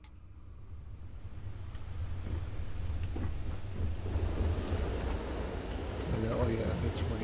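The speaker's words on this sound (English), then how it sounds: "Oh yeah, it's raining." Steady rain with a low rumble of thunder on a planet in the space game Starfield, a broad hiss building gradually and continuing evenly, fairly faint throughout.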